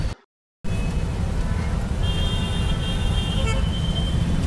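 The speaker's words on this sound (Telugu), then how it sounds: "అప్పుడైతే ట్రాఫిక్ జామ్ అయింది ఫుల్గా." A traffic jam near Panjagutta metro station sends up a steady roar of idling and creeping vehicles. Car horns toot repeatedly over it, close by and loud, after a brief drop-out at the start.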